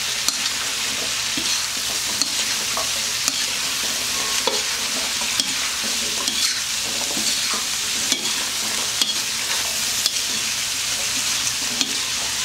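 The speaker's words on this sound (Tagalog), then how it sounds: "Haluin lang natin siya ng mabuti." Vegetables are stirred in a hot pan for sipo egg, a Kapampangan dish, giving a steady close sizzle with scattered spoon scrapes and light clicks throughout.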